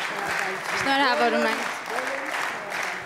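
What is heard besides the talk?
audience applause at award ceremony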